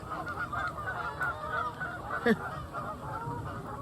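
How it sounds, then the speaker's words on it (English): Distant geese honk repeatedly in an irregular chorus at Trap Pond State Park, Delaware, with one sharper, louder honk standing out above the steady outdoor background. "And the geese are going crazy again."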